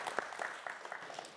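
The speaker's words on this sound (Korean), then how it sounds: "여러분 박수 한번 보내주세요" Brief, sparse applause from a quiz show studio audience, a few scattered claps over roughly a second and a half, fairly quiet.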